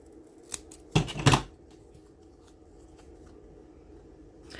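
Scissors snip off the excess sticker sheet in two or three quick, close cuts, followed by near silence.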